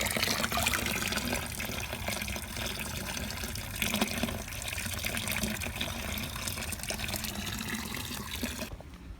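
Water splashing and churning around a Joby GorillaPod tripod thrown in water, a steady broadband wash that runs nearly the whole time, then cuts off abruptly at the end.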